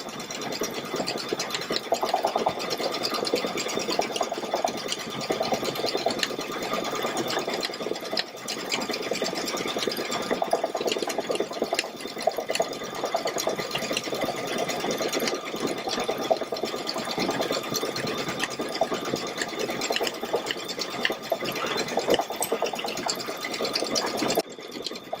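A Baby Lock Solaris embroidery machine stitches an edge-to-edge quilting design, humming and whirring in a steady, fast mechanical rhythm throughout, close and unbroken by speech.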